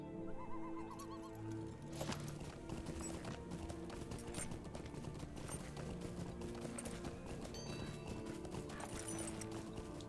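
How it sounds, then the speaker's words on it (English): Horse hooves clip-clop steadily in Lord of the Rings Online as the character rides, a continuous rhythmic trot with faint birdsong in the background throughout. "Get on my horse."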